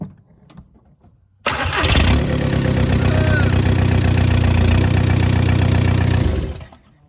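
A Skoda Octavia's engine cranks and catches after a quiet moment, then runs loud and steady at a rough idle close to the microphone before cutting off, with faint voices beforehand.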